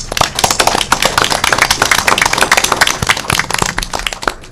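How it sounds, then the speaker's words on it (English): An audience at a college board of trustees meeting breaks into steady, dense applause, with many hands clapping together close by for several seconds and no talking. "want to thank you for your presentations and applaud you again"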